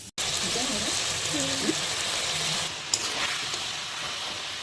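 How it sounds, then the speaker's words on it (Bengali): Steady, dense sizzling of chicken lightly frying in a pan, with faint voices murmuring underneath throughout. "এখন চিকেনটাকে একটু হালকা করে ভেজে নেবো"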